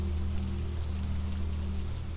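Rain keeps falling outside a seaside cabin, a constant gentle hiss of drops with a faint low drone underneath, unbroken and calm, with no one speaking.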